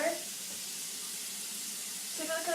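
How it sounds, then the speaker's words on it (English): Running tap water pours steadily into a sink as hands are washed with soap, a continuous hiss at moderate level. "I'm going to wash my hands with soap and water."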